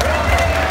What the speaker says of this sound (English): A round of applause para sa ating first judge